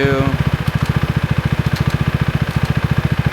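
Husqvarna Svartpilen 401 motorcycle engine idling steadily up close, a rapid even low thrum of firing pulses throughout, with a brief louder start as the rider works the gearshift toward neutral.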